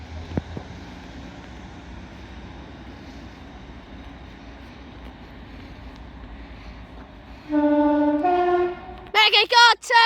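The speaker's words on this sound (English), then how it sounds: "Northern 156406 departs Rochdale now with the 12:52 Northern service to Blackburn" A Northern class 156 diesel unit, 156406, pulls away from Rochdale station with a low, steady engine rumble, then sounds several loud two-tone horn blasts close by near the end.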